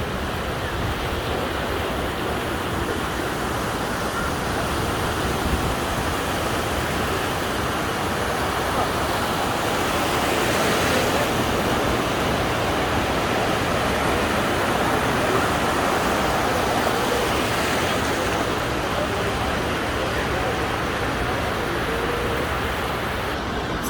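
Steady wash of Mediterranean surf on a busy August beach in Fuengirola, Malaga, a continuous broad roar with gentle swells, faint crowd murmur mixed in and no clear talk.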